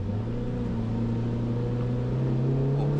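An old 1990s car engine accelerates steadily from inside the cabin, its drone rising slowly in pitch over a few seconds under constant road noise, with no talk.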